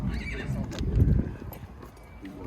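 Horses and young foals at an outdoor livestock market in Kyzylorda give a brief whinny against a dense, noisy backdrop of crowd and animal bustle.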